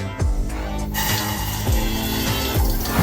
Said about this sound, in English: You're gonna fill it up with a little bit of water.